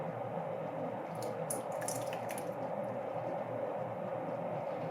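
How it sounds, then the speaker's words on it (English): Water runs steadily from a tap into a pot of pasta fazool soup made with spaghetti sauce, a continuous close splashing stream with a few brighter clinks in the middle. "I'm going to put some water in there, we'll slosh it around"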